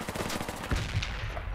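Rapid bursts of automatic gunfire crackle through a Battlefield mod video game, a short, dense volley at moderate distance with no speech.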